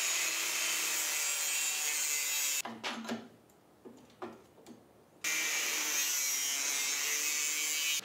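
A saw cuts through a 1/16 inch thick metal sheet, loud steady rasping strokes near the mic that break off into a few scattered scrapes and knocks, then resume as continuous sawing.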